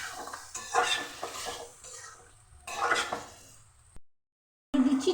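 Chicken being sautéed in a pan for tomato chicken biryani: bursts of loud sizzling and scraping as the meat is stirred, with clattering utensil sounds, a brief silent gap, then more stirring.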